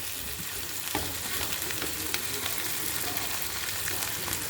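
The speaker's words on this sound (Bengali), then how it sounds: "এবার টমেটো দেওয়া হচ্ছে। এই যে টমেটো দিয়ে দিল।" Tomatoes tipped into a hot frying pan for a vegetable momo filling give a steady, close, dense sizzle and crackle throughout, with a few sharper pops and stirring scrapes.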